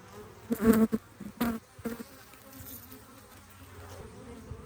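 Honey bees buzz around an open hive with brood frames, a steady hum with louder bursts as individual bees fly close past early on.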